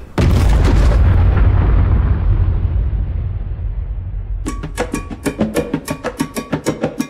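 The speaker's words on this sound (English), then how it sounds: "broadcast the test of a 31 kiloton nuclear bomb dubbed the Big Shot" The 31-kiloton Big Shot nuclear test explodes in a deep, loud blast that rolls and fades over several seconds, followed by a rapid series of sharp crackling pops.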